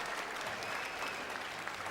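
Audience applause at a televised talent-show semifinal, a dense, steady wash of clapping from a large crowd that holds at even loudness from start to finish.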